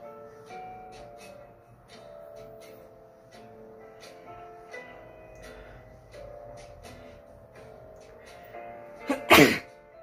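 One sudden, loud human sneeze bursts out near the end, after a long stretch of quiet, soft background tones.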